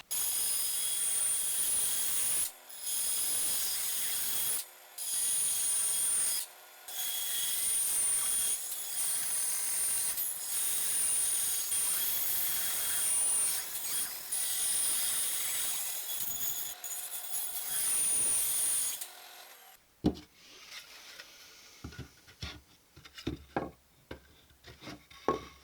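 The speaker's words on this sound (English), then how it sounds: "So the next step we're going to do is actually cut this out using a jigsaw or a bandsaw" Saw, likely a jigsaw or bandsaw, cuts a pumpkin shape from pallet wood in a long steady buzzing run broken by a few short pauses, then stops, leaving scattered knocks and handling noises from the workshop bench.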